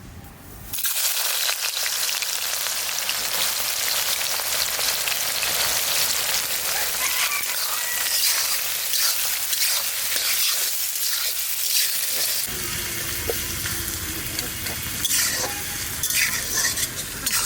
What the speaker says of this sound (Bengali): তেজপাতা আর জিরে অল্প দিলাম পেঁয়াজটা দিয়ে দেবো